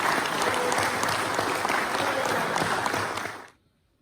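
A large audience at a French tennis federation event applauds steadily, dense clapping holding at a loud level before quickly fading out to silence.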